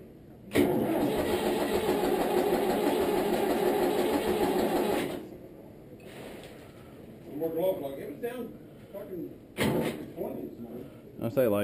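Cold tractor engine cranked on a farm, with a loud close starter grind for about five seconds that then cuts off, followed by voices talking.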